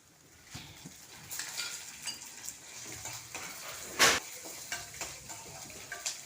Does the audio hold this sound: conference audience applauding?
no